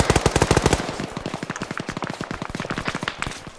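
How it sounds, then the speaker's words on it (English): Rapid automatic gunfire in an ARMA 3 multiplayer military simulation battle, a loud, close, continuous stream of shots in quick rhythm lasting several seconds. "There are shots east, guys, close."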